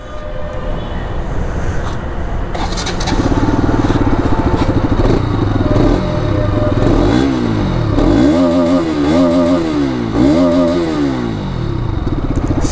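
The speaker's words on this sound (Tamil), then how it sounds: "சரியான எக்ஸாஸ்ட் நோட் பயங்கரமா இருக்கு" A 2023 Bajaj RS 200 motorcycle, which has an OBD2 fault, idles loudly up close, then its exhaust rises and falls through a series of sharp throttle revs, heard alone without talk.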